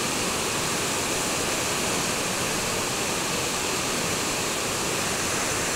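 River water rushes forcefully beneath a bridge, a loud, steady, dense roar that stays constant with no breaks throughout.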